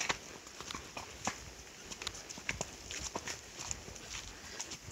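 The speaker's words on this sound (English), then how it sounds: "Champ is a 7-year-old Hackney pony, and Sally is a 5-year-old quarter horse mare" A Hackney pony and a quarter horse mare walk through sunny, chilly woods, their hooves clopping softly and unevenly on the ground, fairly close, with rustling between steps.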